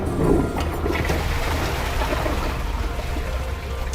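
A Kohler toilet flushing in a side-by-side test against a competitor's toilet, a steady rushing wash of water that holds at an even level for several seconds, with no talk over it.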